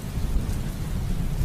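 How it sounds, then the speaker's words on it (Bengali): Thunder and rain sound effect in a dark, stormy-night audio story: a deep, rolling rumble under a steady wash of rainfall, brief and continuous. "বৃষ্টি নামার শব্দও শোনা গেল।"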